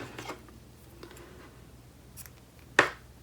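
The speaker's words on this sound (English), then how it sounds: "what I'm going to do is just cut the yarn" A single crisp snip of scissors cutting knitting yarn at an I-cord edge, preceded by faint handling noises, close and quiet with no talking.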